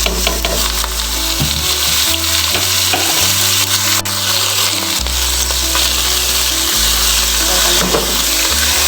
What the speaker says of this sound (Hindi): और इसमें डाल दें जी कीमा। चलिए जी कीमा डाल देते हैं।